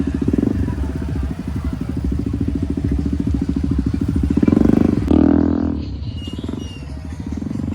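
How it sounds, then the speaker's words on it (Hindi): Many motorcycles ride in a Nagar Kirtan procession in Alwar, their engines putting out a steady, dense rumble close by, with a louder clattering burst midway before the traffic noise settles. "गाड़ियों की एक तरफा लाइन है और बाइकों की एक तरफा लाइन है।"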